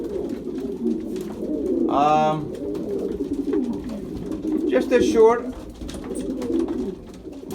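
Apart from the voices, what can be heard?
pigeons cooing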